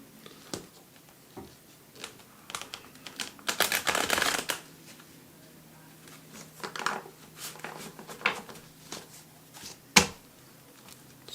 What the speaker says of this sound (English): I'll shuffle a couple more times